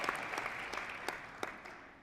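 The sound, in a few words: audience applause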